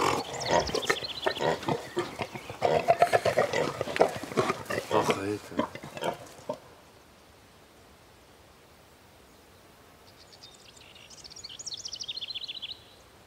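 Pigs of a breed crossed with wild boar grunt and squeal on a farm while a person talks over them, then a quieter stretch follows with faint high squeals from piglets in the background.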